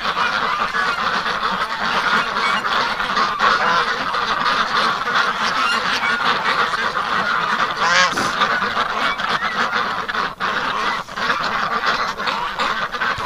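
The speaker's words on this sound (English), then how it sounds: "Filthy, filthy ducks." A flock of ducks quacks and honks continuously out in the snow, overlapping calls forming a busy, close chorus with no talk.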